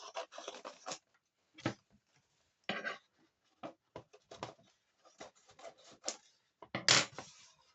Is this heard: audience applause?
no